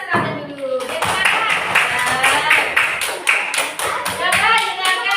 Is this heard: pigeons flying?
no